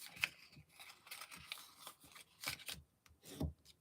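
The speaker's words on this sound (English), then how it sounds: "it's a good idea to fold them back again to make sure that they fold both" Paper or card pieces folded back and forth by hand, soft rustling and creasing scrapes in quick irregular bursts, close and quiet with no speech.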